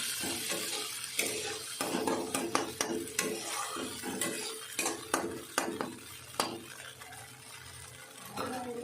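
Onions frying in a pan for peyaj posto, with poppy seed paste about to go in: a soft sizzle under repeated clinks and scrapes of a spoon stirring against the metal pan, close and moderately quiet.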